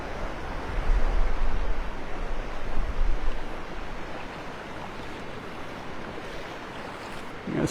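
Gulf of Mexico surf at Delnor-Wiggins beach in North Naples, Florida, washes in a steady hiss with heavier low rumbles and some wind buffeting the microphone early on, no voices.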